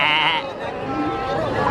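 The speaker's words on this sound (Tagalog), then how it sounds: "Ang cute. Kambing, guys, oh, kambing." A goat bleats at a Kadayawan harvest festival outing, one wavering cry up close at the start, with a person talking alongside.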